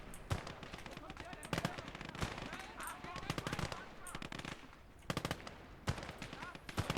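Bursts of automatic and single-shot gunfire in the World War II strategy game Call To Arms: Gates of Hell, with sharp repeated cracks at irregular intervals amid a busy battle ambience.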